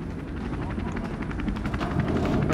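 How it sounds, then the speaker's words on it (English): A helicopter in the video game Resident Evil 3 thumps with a loud, steady rotor chop under talking voices, joined by bursts of gunfire. "there's a helicopter waiting to take you to safety"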